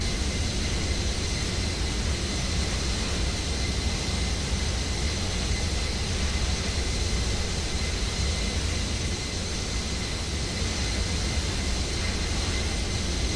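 Airbus airliner engines held at climb thrust in Flight Simulator X, a steady, loud, broadband roar with faint high whine tones, constant throughout with no talking.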